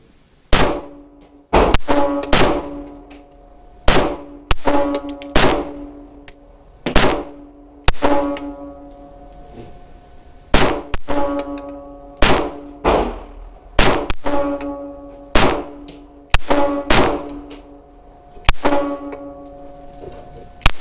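Glock G28 pistol fired at a range target, about twenty sharp, loud shots in a steady uneven rhythm, each with a short ringing decay, and no talking.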